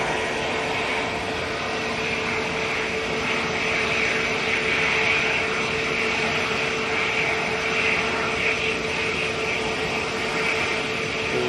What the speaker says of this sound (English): British Airways going to be going down to London Heathrow